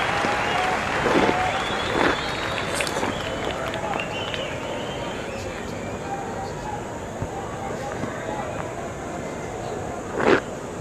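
A cricket crowd claps and cheers around the ground during a one-day international between South Africa and Sri Lanka, a steady, moderately loud wash of applause with a few sharper bursts, mixed with distant babble.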